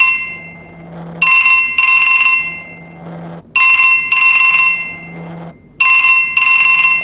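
A phone rings loudly in repeated bursts of electronic bell-like tones, three long clusters separated by short gaps, continuing after the call was declined; no one speaks over it.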